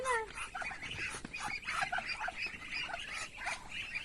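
A turkey gobbles in short, faint, warbling bursts over a soft outdoor background, with a brief voice at the start.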